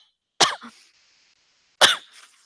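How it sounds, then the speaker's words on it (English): Two sharp, close coughs from a person, about a second and a half apart, each followed by a short rasp, against near silence. "No, that cough didn't happen in the book."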